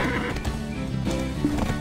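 A horse in the Black Desert Online game whinnies in a short, bright burst. Hooves clip-clop right alongside it, close and moderately loud, and no one talks.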